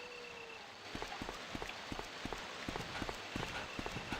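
Steady rain hiss in the video game Resident Evil: Deadly Silence, with scattered sharp taps and knocks like drops striking surfaces, continuous and fairly close throughout.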